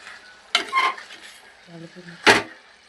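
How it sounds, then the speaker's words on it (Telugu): Tomatoes cooking in a pan, stirred with a utensil: two sharp scraping clanks against the pan about two seconds apart, with a faint quiet sizzle in between. "మళ్ళీ అడుగు అంటుకుంటుంది కాబట్టి కలుపుకుంటూ ఉండాలి"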